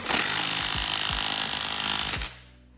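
An impact power tool drives a socket onto a coilover bolt during a Koni GTS coilover install on an S550 Mustang GT, giving a loud, continuous rattling hammer burst for about two seconds before cutting off.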